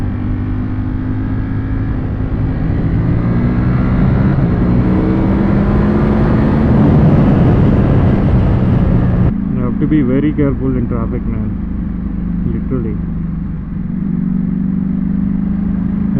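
A Ducati V4 motorcycle rides through midnight traffic, its engine a steady, loud drone that swells and eases, while someone talks over it throughout.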